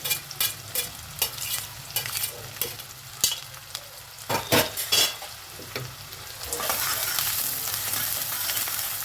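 Chopped onion and garlic sizzle and crackle in a hot pan, with a few stirring scrapes, then a steady hiss of frying.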